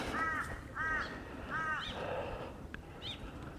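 Crows caw in a park with trees, three clear calls spaced about half a second apart, then a couple of fainter calls later, moderately near against a quiet outdoor background.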